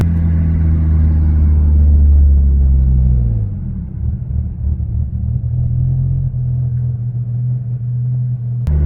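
A 622whp Mitsubishi Lancer Evolution X at quarter throttle gives off a loud, steady low-pitched drone that eases slightly after a few seconds, heard from inside the car with no talk.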